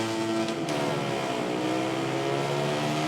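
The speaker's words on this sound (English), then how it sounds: "So here is Stone revving up at the start then" A MotoGP 19 racing game motorcycle engine revs hard at the race start, a steady, loud, high-pitched whine with layered harmonics that holds throughout, alongside other bikes, with no voices.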